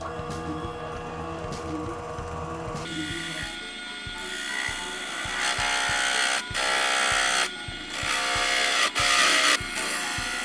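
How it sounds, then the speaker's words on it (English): A power drill bores holes in a walnut wood block to house an LED for an epoxy resin night lamp. A whirring motor gives way to repeated bursts of grinding drilling with short pauses between them, close and fairly loud. "I was ready to drill all the holes needed to house the LED"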